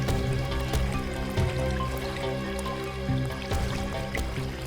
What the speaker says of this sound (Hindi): इस तरफ से पानी के बहने की आवाज आ रही है